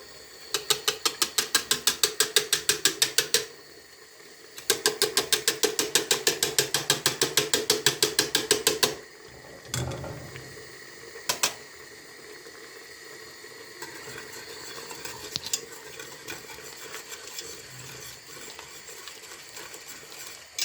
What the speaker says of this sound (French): on prend un peu de fond de veau pour épaissir la sauce à l'aide d'un fouet pour éviter les grumeaux